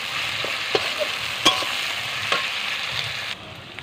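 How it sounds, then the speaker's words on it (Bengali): Onions frying in a pan over a clay stove for a chicken curry, a continuous close sizzle punctuated by a few sharp stirring knocks, no voices. "পেঁয়াজটা দিয়ে ভালো করে পেঁয়াজটাকে একটু ভেজে নেব"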